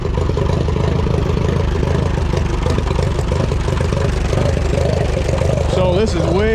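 A Minneapolis Moline UDLX tractor's four-cylinder engine runs with a steady loud, throbbing chug, continuous and close, while people talk over it.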